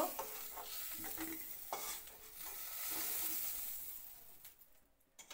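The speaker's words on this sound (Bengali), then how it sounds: "তারপর দিয়ে দিলাম টুকরো করা পেঁয়াজ। হালকাভাবে ভাজতে লাগবো।" Chopped onion pieces frying lightly in a pan for a Bengali small fish curry, a soft steady sizzle with scraping stir strokes at the start and near the two-second mark, then fading out near the end.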